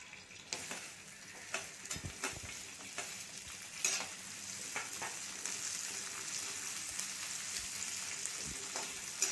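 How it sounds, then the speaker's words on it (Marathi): Onion sautéing in a tablespoon of oil in a hot kadhai for spicy chicken curry: a continuous close crackling sizzle with scattered stirring taps and scrapes, and no talking. "1 टेबलस्पून तेल घातले, तो कांदा परतून घ्यायचा आहे"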